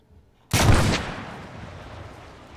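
Gunfire in Arma 3 blasts a power generator: a single loud, sharp burst of shots hits at once after near silence, then a long fading rumble and debris tail, with no talking.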